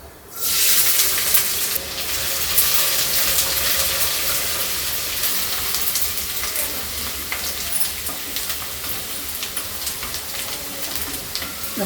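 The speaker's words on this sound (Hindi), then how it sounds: "अब इसमें हम कटे हुए प्याज को डाल दे रहे हैं जो छोटे छोटे काट के हमने रखा था।" Finely chopped onions hit hot mustard oil for a mushroom curry, and a loud, close hiss bursts up at once. It settles into a continuous, rain-like frying sizzle with stirring scrapes and no voices.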